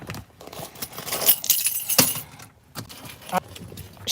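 Metal keys jangle in several bursts while someone grabs a set of keys and a purse, close to the microphone, with brief rustling between the clinks.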